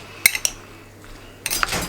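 A spoon clinks against a dish while rougail with ginger and chili is stirred, giving a few sharp close metallic taps early on, a quiet pause, then a burst of scraping and clinking near the end.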